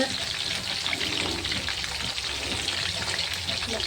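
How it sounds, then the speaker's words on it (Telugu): Chicken frying in a pan makes a continuous close sizzle with a rain-like spatter, steady and unbroken. "ఫ్రై అయ్యేదాకా ఫ్రై చేసుకోవాలి"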